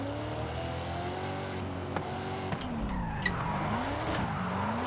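A Crown Vic drifts with its tires skidding: a sustained engine drone shifts pitch as the car slides, with squealing tire screeches and a few sharp knocks, close and loud, no talk.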